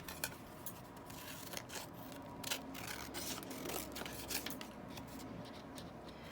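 Scissors snip and rub through a handmade journal card base in a quiet craft room, with soft repeated cutting and rustling close by and no talk.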